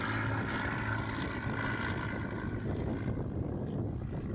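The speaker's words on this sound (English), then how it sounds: "Cessna 182 takeoff." Cessna 182 light aircraft in flight with its propeller engine running, a loud, steady droning roar close to the microphone with a low rumble and wind rush, continuous and without talk.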